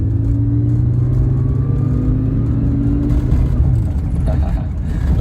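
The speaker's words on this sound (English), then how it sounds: "Love that sound of that 6-cylinder overhead cam." A 1983 Jaguar XJ6 Vanden Plas with a six-cylinder overhead-cam engine revs up and settles, a loud, close rumbling drone whose pitch rises and falls.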